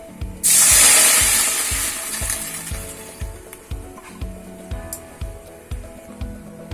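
Semolina (suji) roasting in a pan opens with a loud burst of sizzling hiss that fades, followed by a regular rhythm of scraping stirs against the pan.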